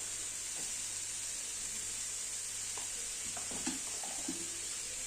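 Chili powder sizzles and fries in an oiled pan while ghugni is cooked, a steady hiss throughout with a few faint clinks and stirring scrapes.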